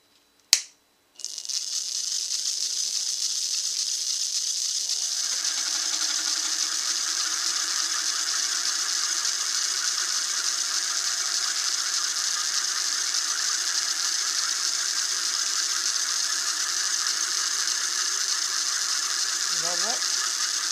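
Petite-Lime hand shaper machine switched on: a short snap or click, then a steady, even mechanical whir with a high hiss that runs continuously and fairly loud for nearly twenty seconds, with a faint voice near the end.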